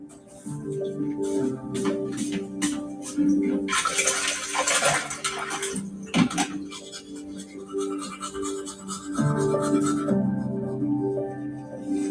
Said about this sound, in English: he washed his face and brushed his teeth